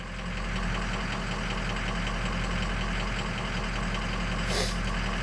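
A Ford Powerstroke diesel truck engine idles steadily through a key-on engine-running self-test, a constant low knocking rumble, close and unbroken, with a brief higher whine near the end.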